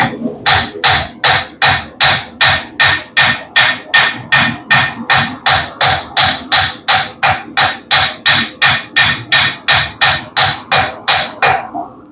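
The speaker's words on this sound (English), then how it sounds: "This is kind of a horseshoer's hammer, farrier's hammer." A farrier's rounding hammer strikes metal in a long, steady series of about thirty loud, close, ringing blows at an even rhythm, each with a short metallic ring, and no talking.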